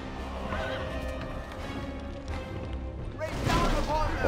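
Horses whinny and neigh amid battle noise in the strategy game Battle for Middle-earth at Osgiliath, with clattering hooves and crashes underneath and someone talking over the game sounds.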